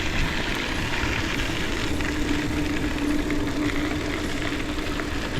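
Motorcycle engine idling steadily at close range, a continuous low rumble with a faint tonal hum, alone with no talk.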